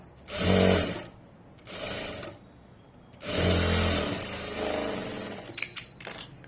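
A sewing machine stitches the front part of a garment in three separate bursts of fast, whirring needle action, close and loud, with brief pauses and small handling clicks between runs.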